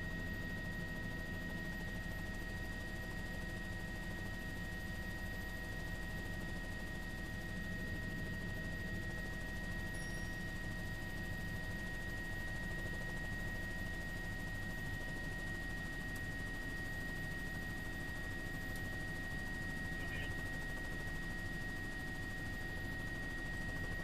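A steady, continuous drone of helicopters flying at 1,500 feet and below over Oroville Dam hums throughout, even and unbroken, with faint high tones above it and no voices.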